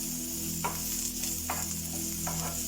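Onion sizzles steadily in a pan for a white chilli curry in milk. Three brief stirring strokes break through the frying under a low background hum, with no talking.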